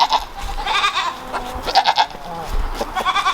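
Goats on a small homestead bleat repeatedly in short wavering cries, fairly close, with a few overlapping calls and a quiet voice speaking in the background.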